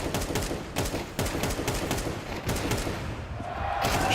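Rapid gunfire from a Counter-Strike esports match between Team Vitality and MOUZ, dense overlapping shots and thuds running steadily throughout at close range with little pause.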